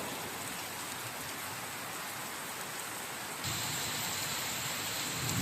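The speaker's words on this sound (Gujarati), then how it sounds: "વીજ ગાજ વીજ હટે બહુ ભારે વરસાદ છે." Heavy rain pours down in a dense, continuous roar of drops on surfaces, steady and enveloping, growing slightly louder partway through, with no clear thunderclap.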